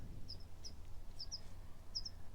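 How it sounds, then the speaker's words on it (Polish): Whinchats calling from a tree in long grass: several short, high chirps in pairs, fairly faint and spaced apart over a steady low outdoor rumble. "Słyszę też pokląskwy. Siedzą tutaj na tym drzewie"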